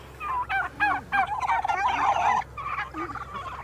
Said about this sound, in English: These are Thanksgiving turkeys.